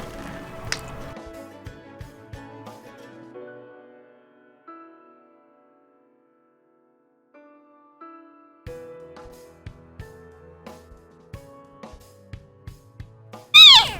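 A cat giving birth in a box lets out strained meows early on, falls quiet, then comes rustling and soft movement before one loud, close cry at the end.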